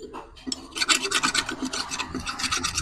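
Rasping file strokes scraping the sides of a Bajaj CT 100 motorcycle connecting rod clean, a quick run of close, gritty back-and-forth strokes at steady volume, with no talking.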